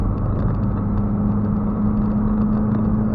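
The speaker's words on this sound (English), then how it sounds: "for a small little simple engine with 220 horsepower, it sounds fantastic" A 2014 Scion tC engine with 220 horsepower runs steadily at a fairly constant pitch, a loud continuous drone with a low hum, no talking.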